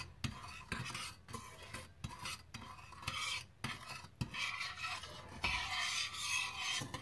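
Sugar is stirred into water in a pot for a banana and coconut milk dessert. A spoon scrapes and rasps against the metal in repeated strokes with brief pauses, fairly quiet and close.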